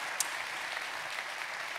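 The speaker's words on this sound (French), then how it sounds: "On les applaudit pour les encourager" Steady applause from an audience at a corporate network meeting's panel discussion, as panelists take the stage; dense, even clapping throughout, moderately distant, with no talk over it.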